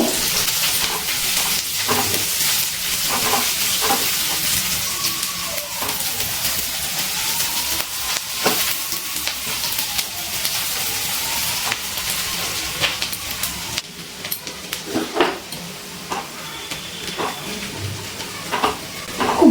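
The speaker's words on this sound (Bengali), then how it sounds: "এই তেলের মধ্যে দিয়ে দিচ্ছি মিডিয়াম সাইজের কেটে রাখা পেঁয়াজ। পেঁয়াজগুলো খুব ভালো করে তেলে ভেজে নেব।" Medium-sized chopped onions fry in hot oil in a wok, a steady loud sizzle lasting throughout with occasional spatula scrapes and pops, quieter toward the end.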